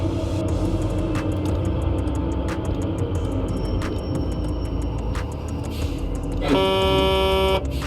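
A low engine rumble from a Scania truck in Truck and Logistics Simulator runs throughout, then a loud, steady truck horn blares near the end.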